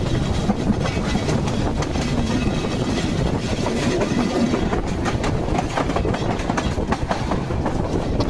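The Lalmoni Express rolls along behind its locomotive near Santahar station, a loud continuous rumble with rhythmic clickety-clack of wheels over rail joints.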